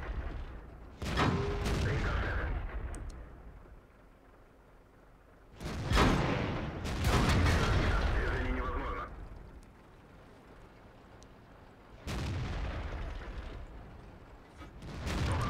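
Tank gun fire from the KV-13 in World of Tanks, three heavy booming shots spaced several seconds apart, each with a long rumbling decay over quieter engine and background hum.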